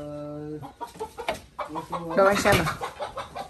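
Chickens cluck and squawk in a village coop, a series of short close calls following a sustained tonal note, with a voice speaking briefly amid the clucking.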